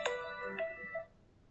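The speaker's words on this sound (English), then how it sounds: "Oh, my phone's ringing." A mobile phone rings in a classroom, with a short bright melodic ringtone sounding close and clear for about a second before it stops. No one talks over it.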